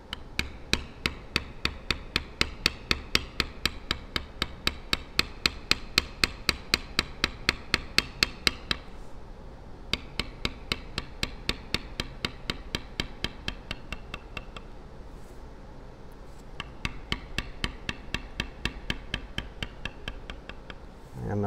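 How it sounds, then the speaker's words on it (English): A checkered bevel tool on leather is struck with a mallet in fast, even taps, a long run of sharp close knocks that pauses twice and then picks up again with no talking. "This is a checkered bevel that comes in the kit. I'm gonna bevel on the outside"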